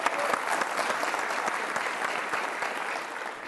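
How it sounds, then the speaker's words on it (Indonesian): Enthusiastic television studio audience applause, a dense wash of many hands clapping steadily throughout, with a few sharper claps standing out. "Kita kasih tepuk tangan dong"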